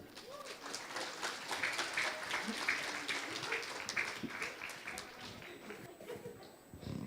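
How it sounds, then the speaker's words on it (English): Audience clapping at an academic economics and accounting conference as guests go up on stage, a loose, moderately loud patter with voices murmuring underneath. "Give applause."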